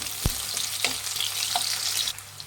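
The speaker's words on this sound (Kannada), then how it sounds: "ಈರುಳ್ಳಿ ಹಾಕ್ತಾ ಇದ್ದೀನಿ ಈರುಳ್ಳಿ ಫ್ರೈ ಮಾಡೋಣ" Sliced onions hit hot oil in a pan, a steady close crackling sizzle with a few sharper pops and stirring scrapes, no talking.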